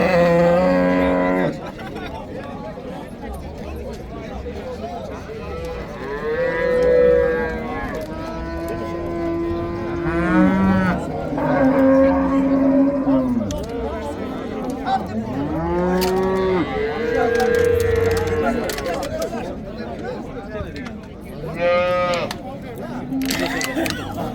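Cows at a livestock bazaar moo repeatedly, several long, drawn-out calls at varying pitches rising over a busy background of people talking and market chatter.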